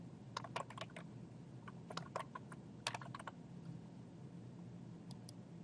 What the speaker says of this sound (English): I simply type in my options and separate them by a comma.